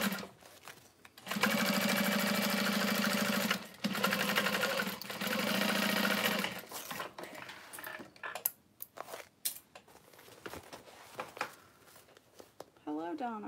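A sewing machine stitching a tote bag together with a long 4.5 stitch length, running in loud, steady bursts up close, then quieter handling and rustling of fabric.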